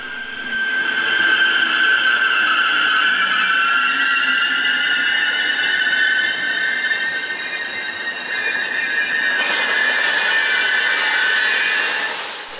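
An old German electric locomotive of the E 39 or E 40 class rolls past close by, a loud sustained roar with steady wheel squeal ringing over the rumble throughout, with no talk.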